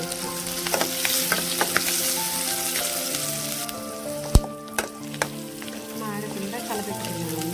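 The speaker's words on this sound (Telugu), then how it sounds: "మాడకుండా కలపెట్టుకున్నామండి" Turmeric and ginger-garlic paste fry in a pan for an Indian egg tomato curry, with a close, even sizzle under repeated stirring clicks and one sharp knock of the spoon midway.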